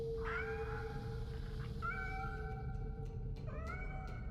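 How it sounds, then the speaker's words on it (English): Cats meow in the video game Nine Sols, three distinct rising-and-falling meows spaced a second or so apart, clear and close over a constant low background hum. "Listen to their meows, guys."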